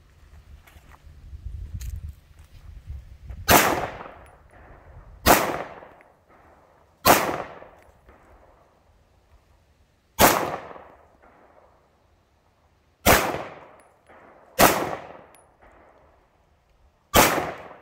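Seven sharp gunshots from a SIG P226 9mm Legion pistol ring out one at a time with uneven gaps, each loud and close with a short outdoor echo.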